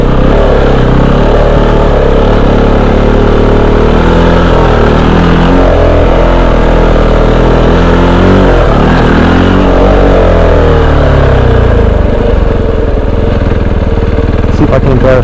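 Kove 450 Rally adventure motorcycle on Tusk D Sports tires and a 51-tooth rear sprocket, its single-cylinder engine loud and close while riding, pitch rising and falling through gear changes and throttle blips.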